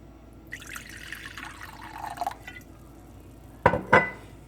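Apple cider vinegar is poured for a baste or marinade for smoked ribs. A short liquid pour trickles for a couple of seconds, then a pause, then two sharp glassy clinks close by.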